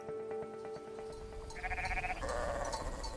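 Lacaune sheep bleat, with a drawn-out wavering call first, followed by a louder burst of overlapping bleats from the flock nearby.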